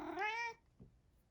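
A house cat gives one loud, drawn-out meow at close range, its tone gliding upward, followed by a short soft murmur and then quiet.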